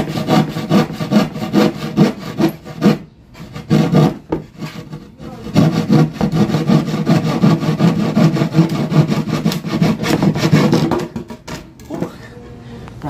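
Wood being sawn by hand for a security guard's podium, a loud, close, rhythmic rasp of back-and-forth strokes with a few brief pauses, continuing for the whole stretch.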